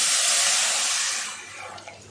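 Tamarind and tomato liquid is poured into a pot of pepper rasam, a close steady splashing gush that tapers off into faint trickles.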